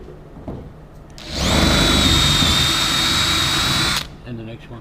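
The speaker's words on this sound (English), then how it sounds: "Gadget drill." A power drill whirs steadily for nearly three seconds, loud and close, during restoration of an AEC Regal Mark 3 bus, with a short burst of talk just after it stops.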